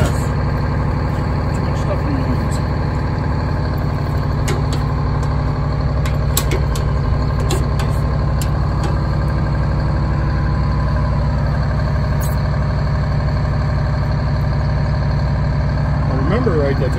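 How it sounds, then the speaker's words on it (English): A Kubota-engined universal generator runs steadily at idle nearby, a constant low mechanical drone with faint clicks and rattles layered on top. "Kubota engine."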